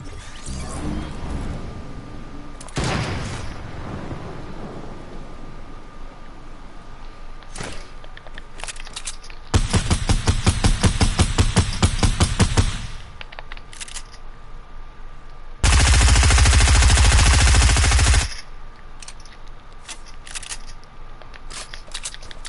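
Gunfire in a video game played during an ASMR session: two loud, sustained bursts of rapid crackling shots of several seconds each, with scattered single clicks and quieter game noise in between.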